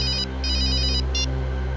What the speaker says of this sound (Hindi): एक मिनट, फोन है।